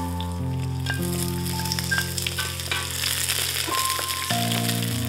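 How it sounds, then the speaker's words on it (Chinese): Scallion pieces and ginger slices sizzle in oil in a wok over low heat, a steady close frying hiss under a low hum and faint scattered clicks, with no one talking. "锅里倒油，小火加葱段和姜片爆香"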